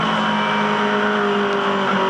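Aussie Racing Cars race at the Clipsal 500 in Adelaide, with a field of race car engines droning steadily and loudly throughout, the revving tone holding a continuous high whine.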